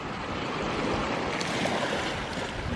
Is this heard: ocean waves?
yes